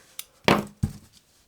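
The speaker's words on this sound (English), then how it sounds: "Now we're just gonna cut the yarn" Scissors cut yarn at the end of a small crocheted Norwegian gnome: a faint tick, then two sharp close snips in quick succession, with quiet around them.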